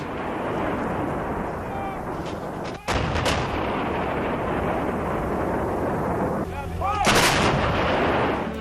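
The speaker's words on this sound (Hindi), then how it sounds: "बोफोर्स को आज भी थल सेना के लिए सबसे बेहतरीन हॉवित्जर तोप माना जाता है।" A Bofors howitzer fires heavy artillery: two sharp, loud booms with a continuous rumbling roar between them, and a voice speaks over the din.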